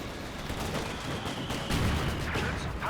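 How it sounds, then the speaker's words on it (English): Mortar barrage with incendiary rounds firing in Company of Heroes 2, two mortars going at once: a dense, continuous rumble of distant gunfire and crackling blasts, with a heavier impact burst near the middle. "So I have 2 mortars going here"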